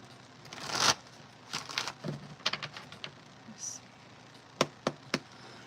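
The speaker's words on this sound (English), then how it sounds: "let me shuffle that one more time" Tarot cards being shuffled by hand at a live reading: a longer riffling burst, then scattered soft flicks and taps, followed by a few sharp separate card snaps, close and quiet.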